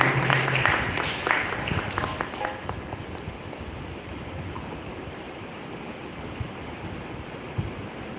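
An event audience applauds to welcome honored guests, a dense burst of clapping that quickly thins into a softer, lingering patter of scattered claps over a steady room hum, with no talking.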